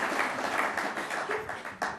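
Audience at a forum debate on globalization clapping steadily, a continuous wash of many hands throughout, moderately loud and unbroken.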